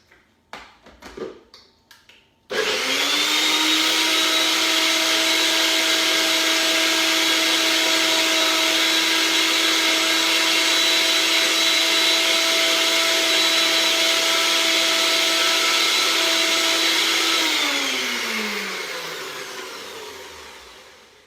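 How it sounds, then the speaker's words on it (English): A NutriBullet blender purees berries, starting abruptly after a few light clicks and running as a loud, steady whine for about fifteen seconds before spinning down and fading, with no talk. "I'm just going to puree this in a liquidizer. I have a NutriBullet, but it can be in any food processor that you have on hand."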